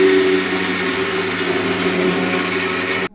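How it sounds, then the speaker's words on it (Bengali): A mixer grinder whirs steadily as it grinds soaked rice into a paste, a loud unbroken motor drone that cuts off abruptly at the end. "তো এখানে আমি যেমন এখন চালটা পেস্ট করে দিচ্ছি"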